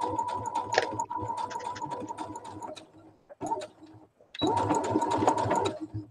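Sewing machine stitching a 5/8 seam on a patchwork cushion, a steady fast mechanical whir with needle ticking, pausing briefly mid-way before resuming at full pace.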